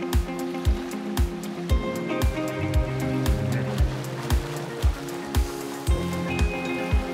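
A swimmer doing backstroke sends up rhythmic, evenly spaced splashes, each arm entry a sharp slap of water over a constant wash of pool noise.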